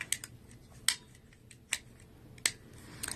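Sharp knife slicing between the layers of denim jeans, producing a series of crisp, close snips and clicks at irregular intervals over a low background hum.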